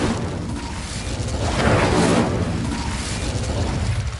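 Incendio fire spell cast in a Harry Potter Hogwarts video game gives a rushing, fiery whoosh that swells to a broad roaring burst midway and then settles into a continuing rumble.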